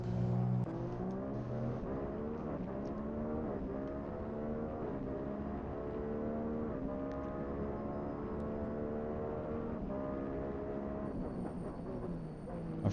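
Onboard engine of a Formula 1 car in an F1 racing game at the Austrian Grand Prix, a loud continuous high-revving whine that climbs through repeated upshifts and dips on downshifts, with no talk.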